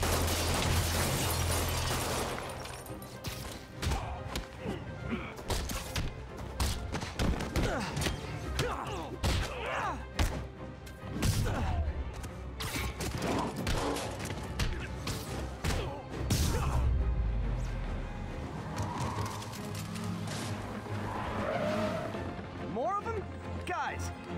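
Gunfire, thuds, crashes and bursts from a jewelry store robbery fight in Marvel's Spider-Man, dense and loud throughout with impacts scattered over a steady din, while voices shout over the action.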